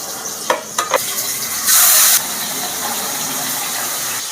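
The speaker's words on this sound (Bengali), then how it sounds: "মাছগুলো যা ফুটছে ফটাস ফটাস করে" Fish frying in hot oil gives a steady loud hiss, broken by a few sharp spattering pops early on and a brief louder fizzing burst partway through.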